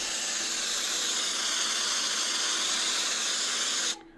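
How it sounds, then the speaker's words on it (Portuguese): White noise played from a phone: a steady, dense broadband hiss that stays constant for about four seconds, then cuts off abruptly near the end. "Esse aqui é um ruído branco."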